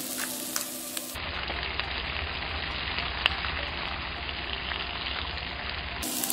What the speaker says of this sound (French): On va les laisser rissoler 2 à 3 minutes